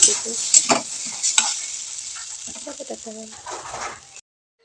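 Vegetables fry and stir in a pan at home with steady close sizzling, and a few sharp clanks of a utensil scrape the pan; faint background sounds and a brief voice appear toward the end.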